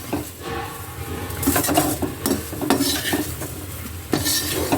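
Okra stir-fried in a pan: a metal spatula scrapes and clatters against the pan in close, irregular strokes over a light sizzle.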